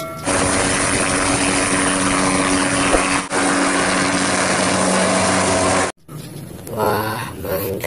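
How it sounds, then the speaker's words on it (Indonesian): A loud, steady whirring rotor drone with a constant engine hum from a toy military helicopter plays for several seconds, then stops suddenly, after which a voice speaks. "Oh, yang ini helikopter tentara."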